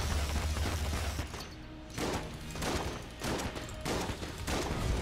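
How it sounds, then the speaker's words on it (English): Sawed-off shotgun blasts from the Enter the Gungeon video game, loud bursts of gunfire repeating in several clustered volleys with brief gaps between them, no talk over it. "We're going to use this opportunity to use up the remainder of our sawed-off shotgun here"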